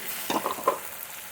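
Poppy seed paste and a splash of water fry in a pan with a soft, steady hiss, while several quick stirring knocks land near the middle, close up and without talk.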